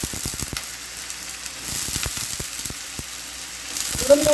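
New potatoes frying in a pan make a steady, soft sizzle and crackle, with a few light clicks of stirring near the start and end, close by and without any talking.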